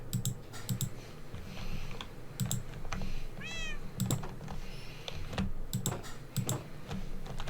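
Cat meows in the Minecraft video game, a short rising and falling mew near the middle, set against steady game background noise and repeated keyboard typing clicks.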